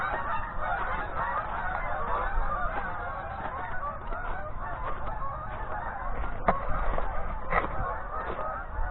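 A flock of geese honks repeatedly outdoors, with many overlapping calls at moderate distance forming a continuous chorus over steady background noise.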